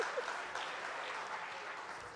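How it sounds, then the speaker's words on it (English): Audience at a literary festival session applauding, a dense, steady round of clapping that is fairly faint and distant, continuing evenly throughout. "That got a bigger round of applause than Latka's."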